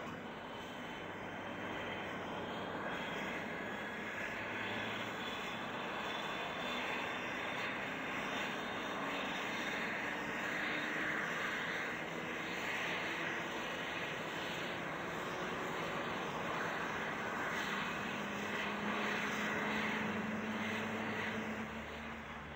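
Airliners carrying football supporters to Lisbon give off a steady, faint aircraft engine drone that runs without a break throughout, like a distant plane in flight.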